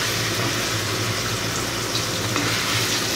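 Chicken liver bhuna frying and being stirred in a pan after a little water is added, a steady close sizzle with soft scraping throughout.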